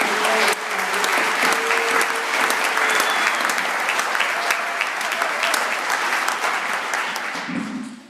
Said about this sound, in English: I'm just going to give all the bands a round of applause again for their fantastic performance